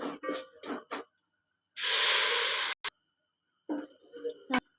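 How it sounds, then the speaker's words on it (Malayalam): Tamarind water hits a hot pan of sautéed spices for a tuna fish curry, a loud, close sizzling hiss lasting about a second, with a person talking before and after. "നന്നായി വഴന്ന ശേഷം പുളിവെള്ളം ഒഴിച്ചു കൊടുക്കാം"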